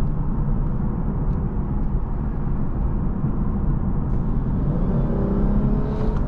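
A 2021 Lexus IS 350 F Sport sedan pulls under throttle, its engine droning steadily and rising slightly in pitch after a brief lag, heard from inside the cabin as a continuous, fairly loud hum without talk.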